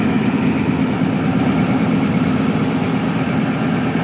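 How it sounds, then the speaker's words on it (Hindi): A Shahzada ZCU-20 diesel locomotive with six traction motors idles at a railway station in Bhakkar, a steady, loud, low engine rumble that holds constant without any voices. "ये है जी शहजादा लोकोमोटिव ZCU-20-6408।"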